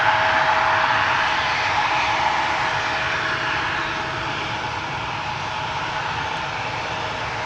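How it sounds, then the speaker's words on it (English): An SAS CRJ regional jet departs from Amsterdam Schiphol's Polderbaan bound for Copenhagen, its engines a steady, fairly loud roar that eases off slightly as the aircraft pulls away. "SAS CRJ going to Copenhagen"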